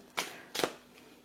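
Doreen Virtue love tarot cards shuffled by hand in two quick, soft riffling bursts close by, then quiet.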